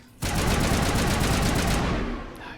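Rapid automatic gunfire from a weapon in the Mass Effect 1 video game, a dense sustained burst of shots that starts abruptly, runs loud for about two seconds and then trails off, with no talking over it.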